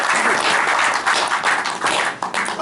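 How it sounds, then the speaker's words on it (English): A group claps and applauds after a sales role-play meeting, a brisk burst of hand claps with uneven dips that gradually thins toward the end. "Round of applause for this meeting."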